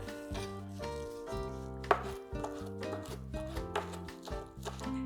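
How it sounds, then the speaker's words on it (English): A knife chops fresh parsley on a cutting board in a home kitchen, close rhythmic knocks repeating steadily, alone with no talk. "And now let's chop some fresh parsley."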